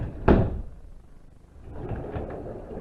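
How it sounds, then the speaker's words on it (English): A door at the DeMolay Room on the fifth floor of the Scottish Rite Building is shut with one sharp thud, then faint rattling and shuffling follow at close range. "This door here, I'm going to show you real quick. When you shut it,"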